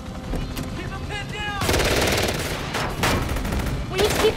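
Automatic gunfire in a Knight Rider 2008 TV show action scene, loud sustained bursts of rapid shots in several waves over tense background score, close and dominant.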